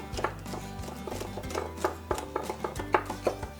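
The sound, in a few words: knife slicing a de-seeded bell pepper on cutting board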